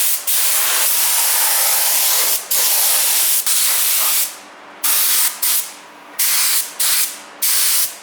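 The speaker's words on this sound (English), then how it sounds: "Rob is about to spray this now." A spray gun sprays machine parts post office red in a workshop, giving a loud hissing blast that runs continuously and then breaks into five or six short bursts with brief pauses between them.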